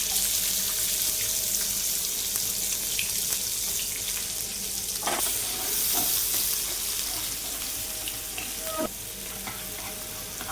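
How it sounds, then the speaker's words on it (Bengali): Chopped onion hits hot oil in a pan, a steady loud sizzle and crackle running throughout, with a few clinks of utensils and light stirring scrapes. "এর মধ্যে তেলটা গরমই ছিল, এবার আমি পেঁয়াজ কুচিটা দিয়ে দেব"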